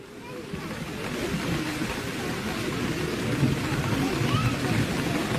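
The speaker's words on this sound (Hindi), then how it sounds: "बारिश तेज हो गई है" Heavy rain pours steadily at an outdoor political rally near Dharamshala, a dense continuous hiss that builds slightly and stays loud throughout with no clear voices.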